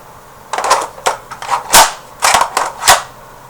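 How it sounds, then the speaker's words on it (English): A Magpul E-Mag magazine being worked into a G&G F2000 airsoft rifle gives a series of about seven sharp, close plastic clicks and clacks in uneven rhythm, with no talk. "You don't even have to press the mag release, but it will click in"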